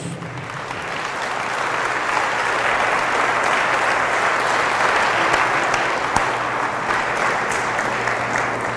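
Loud, sustained applause from a church congregation during a Pentecost service led by a priest, a dense wash of clapping that swells early and holds steady for several seconds.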